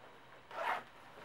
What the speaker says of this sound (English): we've got huge underarm zipper vents you can open from the top down